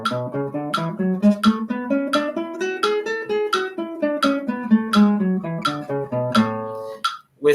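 A guitar steps through a scale one note at a time in a steady triplet rhythm, clear and close, the pitch rising and then falling, with the last note cut short near the end and no voice.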